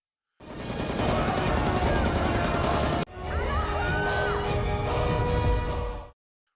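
A gunshot fired into the air during a tense standoff scene in a film, a loud dense burst of firing over a dramatic soundtrack with a sharp cut midway, sustained throughout.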